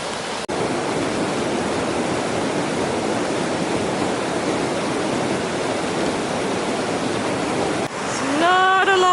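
A mountain river rushes below a narrow snowy bridge on the Pacific Crest Trail, a loud, steady broadband roar of fast water filling the whole stretch close by, with a brief tonal whistle near the end.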